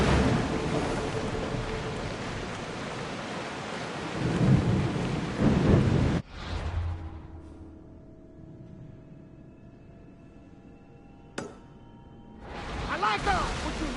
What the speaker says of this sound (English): would you look at that storm?